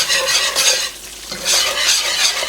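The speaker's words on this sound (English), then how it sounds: "Go ahead and whisk this other 1/3 cup of flour in." Flour being whisked into a roux in a pot, loud rapid scraping strokes of the whisk in bursts with a short pause midway, close up and without talk.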